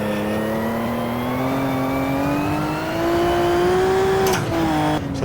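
A Maserati 250 race car engine revs hard through a lap in a driving game, one sustained rising engine note with strong harmonics, loud and close, ending in brief shift breaks near the end.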